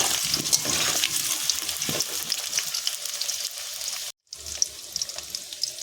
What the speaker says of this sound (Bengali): কেটে রাখা আলু আলু দুটো আমি সুন্দর করে ভেজে নেব